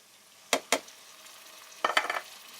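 Onion, tomatoes and whole green chilies hit a hot pan for an aloo palak dish, giving a faint steady sizzle broken by two sharp clanks and a later burst of stirring scrapes.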